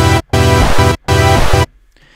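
A dubstep synth patch built in Reason, where two oscillators drop in pitch and a third dissolves into noise, plays loud twice in chopped bursts, each ending in falling tones, then fades to a faint noisy tail.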